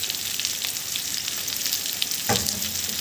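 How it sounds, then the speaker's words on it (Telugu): Onions and green chillies frying in oil for egg curry, a steady close sizzle throughout with a brief louder crackle or stir near the end. "వీటిని కొద్దిగా బాగా రోస్ట్గా వేగనివ్వాలి."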